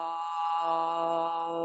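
A single deep, sustained vocal 'om' chant in a gentle yoga session for the third eye chakra, held steadily as one rich humming tone with no other sound around it.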